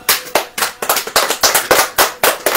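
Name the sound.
congregation clapping hands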